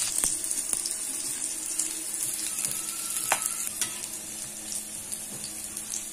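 A generous amount of garlic fries in hot oil for a chilli thecha, giving a continuous close sizzle broken by a few sharp clinks and stirring scrapes. A faint running-water sound sits in the background.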